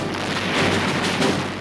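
A World War II artillery barrage opening the German invasion of Russia, a continuous, dense rumbling roar of heavy guns, loud and sustained with no voices.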